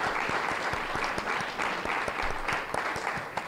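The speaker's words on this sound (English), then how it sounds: "a round of applause for your candidates for Lambton-Kent-Middlesex in the provincial election" Audience applause for candidates at a Lambton-Kent-Middlesex provincial election debate: steady, moderately distant clapping from a modest crowd with individual hand claps audible, no talking over it.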